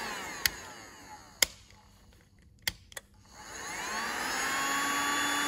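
A Parkside heat gun stripper blows a steady whooshing airflow that drops away midway and then returns, with a few sharp clicks from handling the tool in a workshop.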